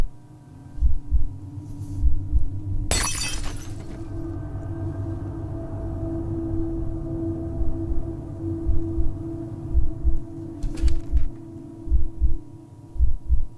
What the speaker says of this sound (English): I love that the heartbeat sound has just become a part of the background audio